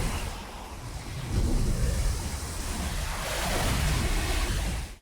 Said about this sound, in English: They keep getting assaulted by the waves.